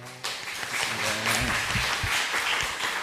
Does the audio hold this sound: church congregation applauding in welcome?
yes